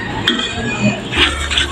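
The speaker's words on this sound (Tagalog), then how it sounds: "nagpag-init na ako ng kaldero at lalagyan na po na natin ng mantika" A metal cooking pot is handled and clinks against a utensil while mung beans are being cooked at home, giving a few scattered close knocks and scrapes.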